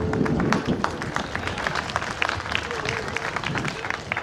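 An audience at a live Kannada comedy show claps in a dense, steady burst of applause, close and continuous for several seconds, with a few voices mixed in.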